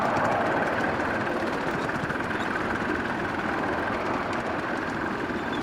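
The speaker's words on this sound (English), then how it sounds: "you can hear the exhaust note changes to a purr." A steam locomotive's exhaust settles into a steady, low rumbling purr that runs without pause, a dense mechanical hum with a faint rapid pulse.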